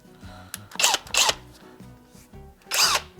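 Short, loud bursts of a Kobalt 24-volt cordless right angle impact wrench whirring and hammering, three separate runs with pauses between, close up and with no talking.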